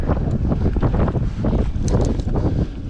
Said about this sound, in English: It is pretty windy, so hopefully you guys can hear me just fine.